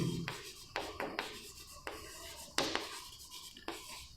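A pen writes on paper while a maths problem is worked out, producing a run of short, close scratchy strokes and pauses in an uneven rhythm, with no speech.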